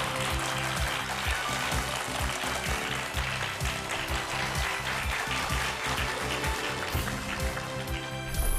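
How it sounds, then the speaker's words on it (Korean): Audience applause greets a strategy institute director as he is invited onstage at a Korean television lecture event, a dense, steady clapping that carries on for the whole span with no voice above it. "큰 박수로 맞아주시죠"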